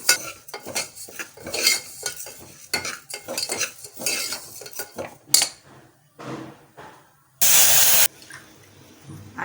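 Lentils roasting in ghee inside a pressure cooker, a metal spoon stirring and scraping with irregular clinks against the pot, followed by a short hissing burst near the end.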